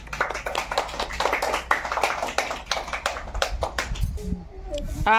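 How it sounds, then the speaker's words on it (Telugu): Children clapping during a bangle-picking game, a rapid, uneven burst of hand claps over the first few seconds, with children's voices and chatter continuing underneath and rising toward the end. "క్లాప్స్."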